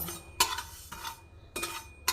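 Black cumin seeds being stirred in a dry wok, with a few sharp metallic scrapes of the spatula against the pan spaced apart and fairly close, over a quiet background.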